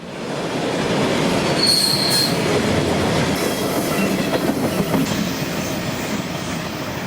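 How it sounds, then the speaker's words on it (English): A southbound CSX freight train passes near a brick station, its wheels squealing high and loud over a continuous rumble and clatter of rail cars, close by and steady throughout. "Train R313 is southbound at Sparta"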